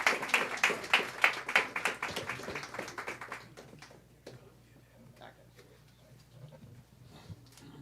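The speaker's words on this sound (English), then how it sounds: "Let's give him another round of applause." An audience at a tribute event applauds with dense clapping mixed with voices, then the applause thins and fades away after a few seconds into a quieter room.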